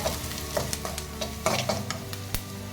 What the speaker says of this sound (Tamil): இந்த ஆனியன் வந்து நல்லா பொன்னிறமாக வதங்கட்டுங்க